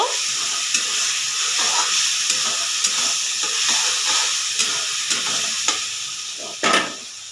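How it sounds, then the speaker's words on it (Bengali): Ground spice paste for Bengali chicken rezala is stir-fried in a hot pan, with a loud continuous sizzling hiss and a steady run of soft scraping stirs. One sharper bang or hiss comes near the end. "সেটা আমি এর মধ্যে দিয়ে দেব বেশ কিছুক্ষণভাবে কষিয়ে নেব"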